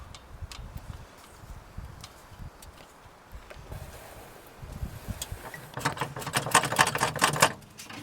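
A 1971 International engine sputters to life briefly, a quick run of rapid, uneven mechanical ticks and pops rising out of a quiet background of low rumbles and scattered clicks.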